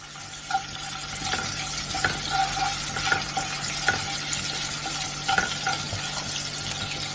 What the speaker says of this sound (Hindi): अब इसमें हम अदरक डालेंगे, 2 हरी मिर्च डालेंगे और इनको भी हम भूनेंगे